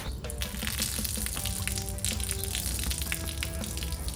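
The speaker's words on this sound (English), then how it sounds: "I'm gonna put a little bit of water on here." Water splashing and sizzling on a new Blackstone 22 inch griddle being cleaned of manufacturing oil, with steady crackling, hissing and scattered clinks of metal throughout, fairly loud with no talking.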